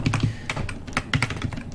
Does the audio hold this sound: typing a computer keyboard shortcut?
yes